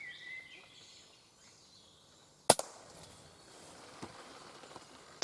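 An air rifle shot at a squirrel during outdoor pest control: a single sharp crack rings out partway through, followed by a few fainter knocks, against a quiet background with faint birdsong.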